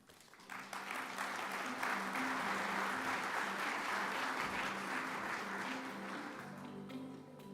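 Conference audience applauding to welcome a keynote speaker at the World Geothermal Congress, a dense wash of clapping that swells in within the first second, holds steady and loud, then thins toward the end over a faint background tone.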